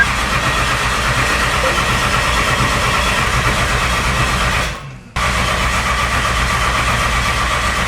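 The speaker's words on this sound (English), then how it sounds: "here is the first crank over. So it's not gonna start" A 12 valve Cummins diesel engine cranks over without starting during a head gasket replacement, a loud, steady mechanical churn that breaks off briefly and then resumes.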